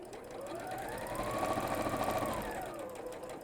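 Sewing machine stitching down fabric, a quick steady whirr of needle strokes that rises and holds for a couple of seconds before slowing, fairly quiet and close with no talk.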